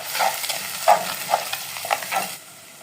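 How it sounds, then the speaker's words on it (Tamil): Ground onion paste sautéed in a pan for a prawn curry, soft irregular scrapes and taps of a spoon stirring over a faint sizzle, close and moderately quiet, ending in near silence. "இது அரைச்சி வச்ச வெங்காயத்தை போட்டு வதக்கணும்."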